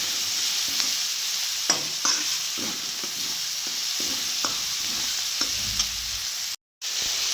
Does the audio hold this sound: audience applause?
no